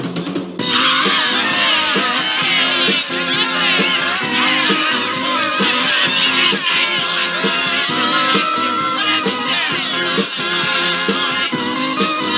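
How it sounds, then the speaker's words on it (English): A huge outdoor crowd at a 1960s band concert on a town square makes a steady, dense, loud roar of cheering and yelling that carries on without a break from start to finish. "The longtime 60s band played on the square before a huge crowd."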